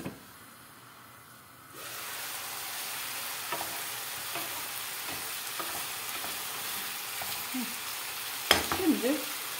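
Carrots frying in a pan, a steady close sizzle and hiss rising after a quiet start, with occasional stirring clinks and scrapes and a louder clatter near the end.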